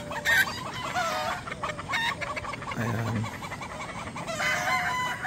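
Chickens cluck and a rooster crows against steady background noise, with a short spoken word near the start.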